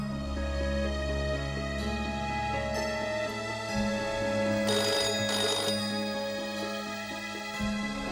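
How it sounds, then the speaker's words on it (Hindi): A telephone rings at the other end of a call in a Hindi family drama, the ringback tone repeating in steady cycles, clear and close for the whole stretch, with no talk over it. "तेरे सामने ही पिनाकिन को फोन करता हूँ"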